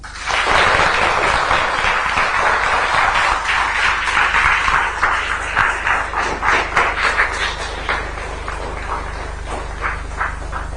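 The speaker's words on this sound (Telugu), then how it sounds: "గట్టిగా చప్పట్లు కొట్టి అందరూ చెప్పండి" A large audience of students and parents breaks into loud, sustained clapping at Chandrababu's event, a dense wash of hand claps that swells early and slowly thins toward scattered claps.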